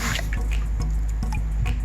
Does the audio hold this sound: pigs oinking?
no